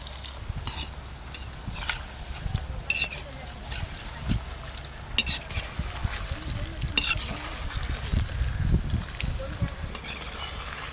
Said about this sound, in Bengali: বাকিগুলো একই রকম করে ভেজে নেব।